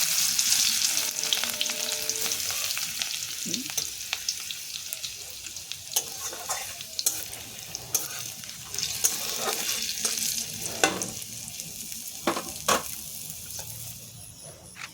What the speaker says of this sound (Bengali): থেতো করে রাখা রসুন দিয়ে দিলাম